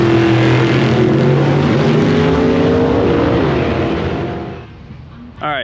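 A gasser hot rod's engine runs loud and close at a Blue Suede Cruise car show, its rough, throaty rumble holding steady before fading down, followed by a brief voice at the end.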